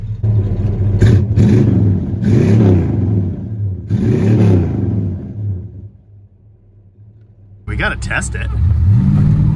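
A 318 V8 in a 1969 Dodge Charger with a broken distributor is revved up close in several short, rising bursts, settles to a low idle, then revs again while someone speaks briefly.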